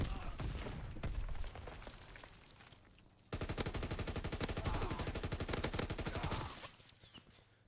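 An MG15 machine gun fires in a Call of Duty: WW2 team deathmatch. A long, rapid burst of regular shots follows a few seconds of quieter in-game noise.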